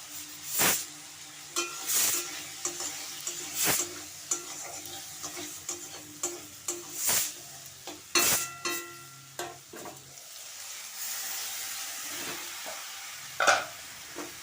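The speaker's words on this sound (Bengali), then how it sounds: "আলুটাকে আমি ভেজে নেব তারপর নুন হলুদ দিয়ে দেবো" Potatoes fry in a pan with salt and turmeric: a quiet sizzle under intermittent scrapes and clacks of a spatula stirring, spread over several seconds.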